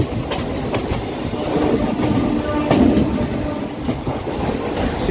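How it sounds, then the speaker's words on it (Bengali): A local train runs on the Bardhaman to Sealdah line, its steady rumble and rhythmic clatter of wheels filling the space continuously at close range, with no talk. "সেই দৃশ্য উপভোগ করতে করতে আমাদের ট্রেন চলে এলো তার পরবর্তী গন্তব্য স্টেশন"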